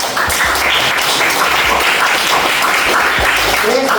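Audience applause at an Indonesian school guidance counselling event, a steady dense wash of clapping sustained throughout at fairly close range, with faint voices mixed underneath.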